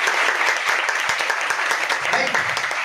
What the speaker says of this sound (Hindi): इनके लिए और एक जोरदार ताली होना चाहिए